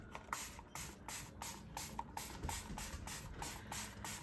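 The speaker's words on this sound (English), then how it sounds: "the easiest way to wet all of these at once is with a spray bottle" Repeated bursts of a handheld spray bottle misting water onto watercolor paper, about a dozen quick even hisses in a steady rhythm, close and fairly quiet.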